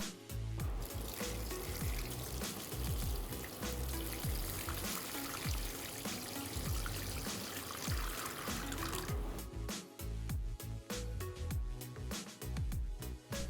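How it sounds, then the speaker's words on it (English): Water pours steadily into a container holding a Redmi K20 smartphone for a submersion test, a continuous splashing trickle running close and moderately loud for the whole stretch with no talking. "Now I'm gonna start the timer and start filling up the water."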